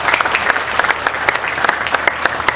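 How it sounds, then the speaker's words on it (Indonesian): A short burst of audience applause at an Indonesian cultural dialogue session, brisk, fairly loud clapping from a seated crowd. "Tepuk tangan untuk Mas Chandra ya."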